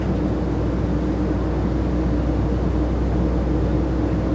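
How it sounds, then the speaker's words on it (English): Steady, dense roar inside an airplane cabin in flight, a constant broadband rumble and hiss with no change in level and no voices. "Here is what it sounds like in the plane,"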